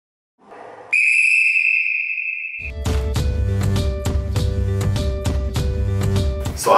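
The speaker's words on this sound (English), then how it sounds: "So I make the call, I blow the whistle." A basketball referee's whistle gives one loud, sustained blast of about two seconds. It is followed by steady rhythmic background music with no talking.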